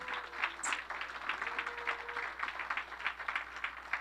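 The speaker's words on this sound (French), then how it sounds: "On les applaudit parce qu'ils s'en viennent, ça va les encourager" Applause from an audience, a steady patter of many hands clapping at moderate volume throughout.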